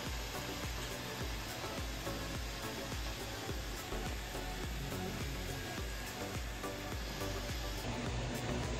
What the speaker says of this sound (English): Might be a little loud in here right now got the wash going and the uh, the Roomba